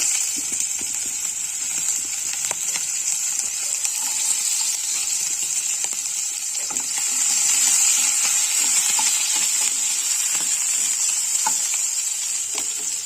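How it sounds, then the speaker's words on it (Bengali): Green beans frying in hot oil for a homemade vegetable chow mein, giving a steady, close hiss of sizzling with faint stirring clicks throughout, no voices. "এবার আমার তেল গরম হয়ে গেছে, বিনসগুলো ভেজে নেব।"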